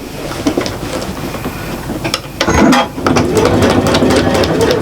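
Sewing machine stitching through a foam-lined shopper bag, rapid mechanical rattling that starts softer and becomes a dense, louder run of stitching after a brief pause.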